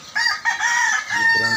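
A rooster crows loudly and close by, one long strained call held for over a second with a harsh, bright tone.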